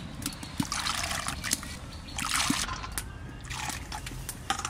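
Water is poured into a pot of washed lentils in a few gentle bursts, trickling and splashing close by with a soft, uneven flow.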